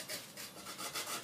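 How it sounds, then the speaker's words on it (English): A small hacksaw cuts through metal while building a rocket stove, making soft, steady back-and-forth rasping strokes close by with no talking. "then just very softly just keep sawing"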